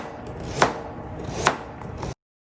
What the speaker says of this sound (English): I'm doing thinner slices because it takes less time to cook broccoli